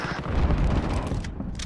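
Dense gunfire rumbles through a Modern Warfare firefight, a steady low barrage of shots with a couple of sharper cracks near the end.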